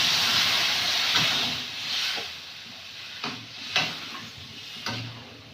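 Water poured onto fried taro and potato in a pan produces a loud steaming hiss that slowly fades, punctuated by several sharp stirring or spatula knocks.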